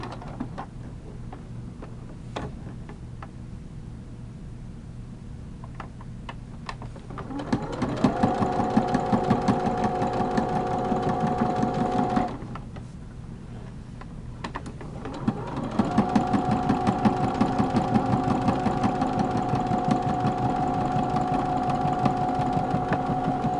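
A sewing machine with a binder foot stitches fabric in two sustained bursts of fast, rhythmic whirring, separated by quiet pauses and light handling clicks, with no speech.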